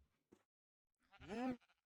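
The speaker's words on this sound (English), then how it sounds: "Baby cow mooing." A baby cow mooing in Minecraft, a single short bleating moo preceded by a faint blip, close and clear against silence.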